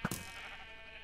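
A single short sheep bleat from Minecraft, clear and close, with a quick double pulse followed by fading quiet.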